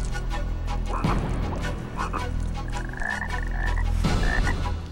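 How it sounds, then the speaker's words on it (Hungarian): A dense chorus of frogs croaking continuously, loud and close, with overlapping rhythmic calls filling the whole stretch and no voices over it. "És következnek ezek a fantasztikusan gusztustalan békák."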